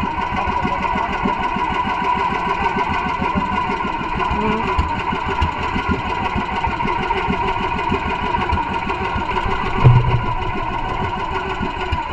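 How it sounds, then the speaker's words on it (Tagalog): A fishing boat's engine drones steadily at mid pitch and fairly loudly, with a brief louder bump near the end, no voices over it. "Mamatay ang makina."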